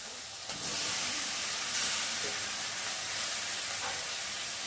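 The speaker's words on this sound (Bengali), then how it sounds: "আর এখন এই যে মাখিয়ে রাখা চিকেনটাকে দিয়ে ভালো করে কষিয়ে নেব।" Marinated chicken is added to fried spice masala in a pan and fries with a loud, continuous, hissing sizzle after a brief clank, holding steady to the end.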